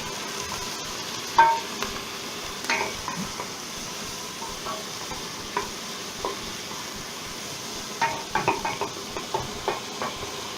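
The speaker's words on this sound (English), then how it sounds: "I'll fry that and just leave that to fry" Vegetables for a curry sizzle and fry steadily in a pan, with occasional knocks and scrapes as a utensil stirs them, close up and with no talk.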